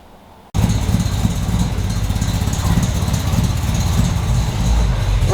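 A Honda Integra DC2 Type R engine starts up abruptly after a moment of quiet, then runs at a steady, loud idle and rumble close by as the car is moved into a garage.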